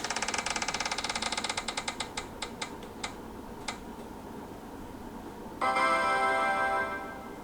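A prize wheel spins with rapid ticking that gradually slows and spaces out until the clicks stop, followed by a brief burst of brighter chiming sound near the end.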